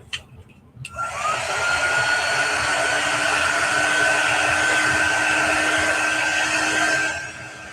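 A hair dryer runs steadily after a click, drying chalk paste pressed through a silkscreen, with a loud continuous airy whoosh and a thin whine holding for about six seconds before it switches off.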